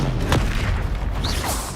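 The Bombarda blasting spell explodes in Hogwarts Legacy on PS5, a loud, close, booming blast with a rumbling tail that lasts under two seconds.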